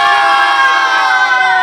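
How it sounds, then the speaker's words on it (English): Loud, dense crowd cheering and shouting in support of India after a Cricket World Cup semifinal win over New Zealand, a continuous roar of many voices with high whoops throughout. "So you see people cheering over here for India"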